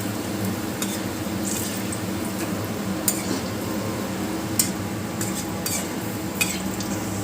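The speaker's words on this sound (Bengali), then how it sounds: "এটা স্লো ফ্লেমে ধীরে ধীরে ফ্রাই করে নিতে হবে, লাল লাল করে" Veg Manchurian balls fry slowly in oil in a pan, a constant low sizzle broken by several sharp metallic clinks and scrapes of a spatula stirring, close and without talking.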